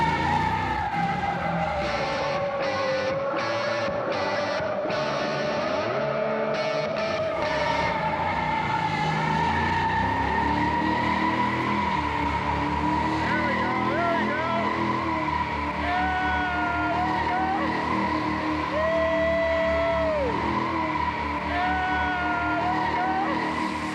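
A Hemi-powered Gremlin does a burnout, its engine roaring loudly while the tires squeal and skid in long wavering tones, with revs climbing and rising squeals repeating toward the end.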